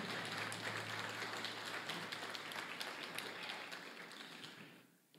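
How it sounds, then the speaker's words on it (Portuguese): A congregation at a church service breaks into steady, vigorous applause, dense clapping held at an even level for several seconds before trailing off sharply at the end. "Aplaude com força."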